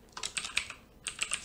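Quick bursts of keystrokes on a computer keyboard while writing Java code for a simple calculator, two close clusters of typing separated by a short pause.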